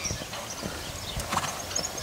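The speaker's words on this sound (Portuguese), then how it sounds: "Japão do Volga, lindo cavalo baio, 165 de altura, castrado, 7 anos," A bay Lusitano gelding, 165 cm tall and seven years old, steps with crisp clip-clop hoofbeats on a hard surface and gives a short whinny, heard up close with no talking.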